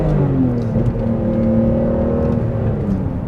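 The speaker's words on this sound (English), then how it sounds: "you can hear the rev match downshifts" A BMW E46 M3 with SMG transmission making rev-matched downshifts, the engine note blipping and shifting pitch in steps under a loud continuous drone, heard close from inside the car with no talk.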